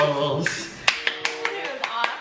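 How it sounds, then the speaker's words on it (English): A few sharp hand claps land in a loose rhythm over a quiet room, close and fairly crisp, with a faint hum of music or voices trailing underneath. "Oh, you knew the clap at the end."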